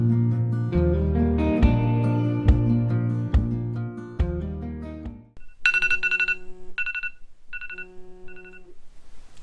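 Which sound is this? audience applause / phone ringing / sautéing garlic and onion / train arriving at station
phone ringing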